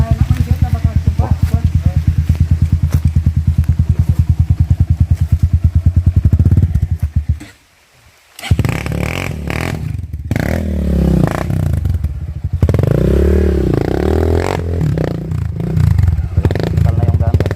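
Dirt bike engines, including a heavy Honda XR, chug and rev loudly up close on a rough hard trail, with clattering and scraping over rough ground, a brief quiet gap, and people talking in between.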